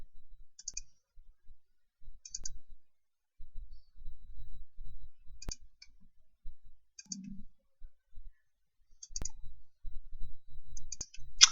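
Mouse clicks in a SQL Server 2012 installer, sparse, sharp and close, a few single clicks spaced seconds apart with quiet gaps between them and no talk.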